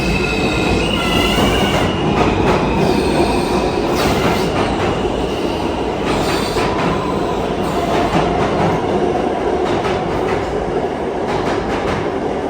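A New York subway train rumbles loudly through the station, with steady rail noise, clattering wheels and high squeals continuing throughout.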